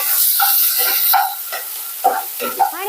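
Onion and finely chopped tomato sizzle in a pan while a spoon stirs and scrapes them in several short, close strokes over a steady hiss of frying.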